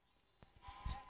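Minecraft sheep bleating in a short blocky-game burst, a faint call followed by a louder nearer bleat toward the end, with low thumps under it.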